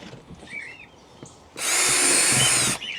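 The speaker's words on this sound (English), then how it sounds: "You don't want to be drilling your holes all the way down 1-2 inches" A power drill bores a hole into a worm bin in one close, loud, whining burst of just over a second, with only faint handling noises before and after.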